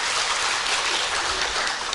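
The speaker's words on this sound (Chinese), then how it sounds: "所以给自己一个掌声鼓励一下" Dense, continuous applause rises from a seminar audience at a talk on exchange-traded funds. The clapping is loud and even, blurring into a steady rain-like hiss for the whole stretch, with no talk over it.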